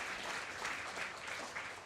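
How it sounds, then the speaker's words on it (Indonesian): Audience applause for award recipients at the IDN Times Inspiring Newsmaker 2025 ceremony, a short burst of steady, moderately faint clapping from a crowd. "Tepuk tangan untuk para penerima ya."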